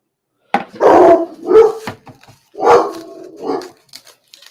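A dog barks loudly and close by at neighbours outside, four or five deep, spaced barks in an irregular rhythm with brief quiet gaps between.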